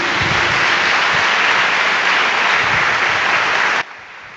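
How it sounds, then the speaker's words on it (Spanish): A church congregation bursts into sustained applause, a dense wash of clapping hands that holds steady and loud before cutting off abruptly near the end. "Dale un aplauso al Señor porque me hace feliz."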